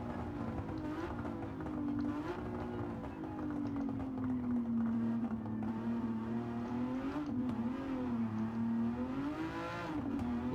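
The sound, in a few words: Aston Martin DB11 engine in video game Gran Turismo 7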